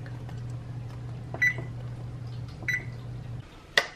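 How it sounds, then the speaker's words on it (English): An oven being set to preheat gives a few short electronic beeps over a low steady hum, with a final sharp beep after the hum cuts off. "and preheat our oven"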